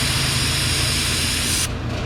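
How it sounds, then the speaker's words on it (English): A continuous loud hiss of brake cleaner sprayed close by onto a Ford 4.0 V6 engine during an oil change, cutting off abruptly near the end. "And spray that down with some brake clean."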